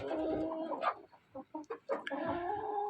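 Hens and chickens on a small Kazakh poultry farm cluck close by in a short burst of calls, with a brief quiet gap in the middle and no talk.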